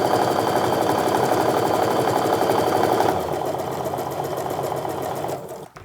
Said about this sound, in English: I can eyeball it and just sew it through